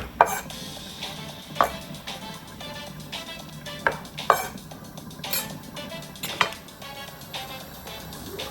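Fresh chili and chopped coriander being stirred into a creamy coconut fish gravy of pink perch, with repeated close clinks and scrapes of a utensil against the pot over a soft bubbling background.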